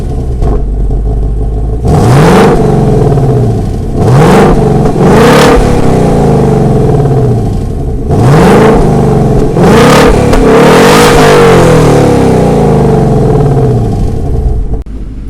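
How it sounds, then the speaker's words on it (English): A 2024 Ford Mustang GT with the 5-liter V8 revs its exhaust several times from a loud steady idle, each blip rising sharply then falling back, with one longer double rev near the end, heard up close with no talking. "let's get a glimpse of what this exhaust sounds like"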